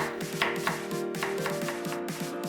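A knife cutting a carrot into thin julienne strips about 3 mm wide on a cutting board, with a quick, even run of close chopping taps, roughly four a second.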